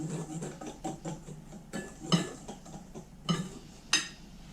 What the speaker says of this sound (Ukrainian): Це все перемішаю.